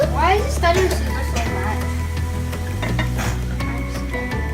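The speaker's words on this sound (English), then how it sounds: "Why is it starting to sizzle so much?" Noodles with meatballs sizzle hard in a hot pan, a continuous loud frying hiss with stirring scrapes, as a voice talks over it.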